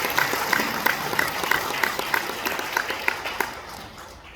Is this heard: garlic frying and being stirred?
no